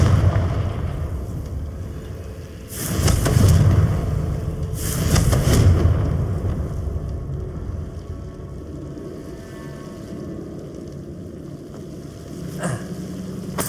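Two loud blasts from the Confringo blasting spell in Hogwarts Legacy, the first near 3 seconds and the second near 5 seconds, each a booming burst. A sharp crack follows late, with low rumbling ambience between.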